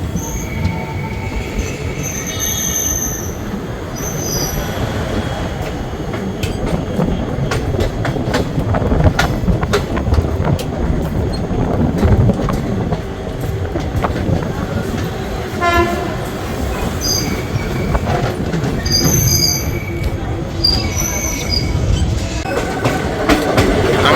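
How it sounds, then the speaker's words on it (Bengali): The Maa Tara Express rolls into Sainthia Junction, its wheels screeching and squealing along the platform with rhythmic clatter and bursts of horn, loud and close for the whole stretch. "সাঁইথিয়া জাংশনের আমাদের ট্রেন দিয়েছে 3 নম্বর প্ল্যাটফর্মে।"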